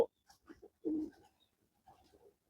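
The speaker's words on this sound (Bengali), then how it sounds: "এটা হচ্ছে একটি মাদি কবুতর" A female pigeon cooing softly close by, a few short, low throaty coos in uneven bursts separated by quiet gaps.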